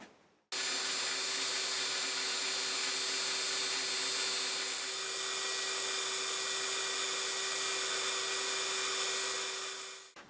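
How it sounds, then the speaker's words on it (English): A high-pitched drill whines steadily for about ten seconds, boring inlay holes in a guitar neck, a continuous shrill tone with no talking. "So we're just going to drill all those out now, and then we'll install our inlays."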